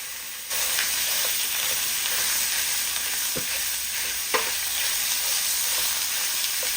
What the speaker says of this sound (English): To our pan, let's add some oil, small amount of course. And let's introduce our ground beef.